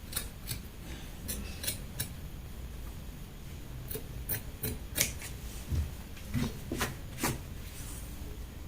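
Scissors trimming excess fabric while sewing a striped shirt dress, with a series of quiet, crisp snips at irregular intervals over a soft rubbing background, no talk.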